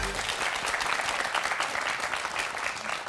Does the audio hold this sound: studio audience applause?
yes